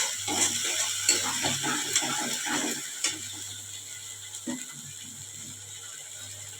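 A spoon stirs spiced masala with Kashmiri chilli powder and sugar in a pan for a potato and cauliflower curry, producing close, irregular scraping clicks and rattles over a low steady background hum.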